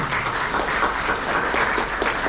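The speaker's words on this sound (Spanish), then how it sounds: "Les pido un caluroso aplauso, por favor, para nuestra conferencista" Audience at a literary conference applauds to welcome the speaker, a steady dense wash of clapping filling the whole stretch at even loudness.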